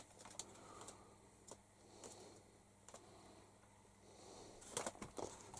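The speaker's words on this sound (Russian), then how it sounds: "А там дальше голубь." Pigeons cooing softly indoors in a dovecote, a few low calls scattered over a quiet background with some brief fluttering and tapping sounds.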